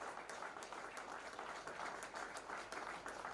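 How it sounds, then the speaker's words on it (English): A crowd claps at a company's 13th anniversary ceremony, steady applause at moderate distance with individual claps standing out sharply from the wash. "you can also put a huge round of applause for Pradeep sir and Manish sir right here"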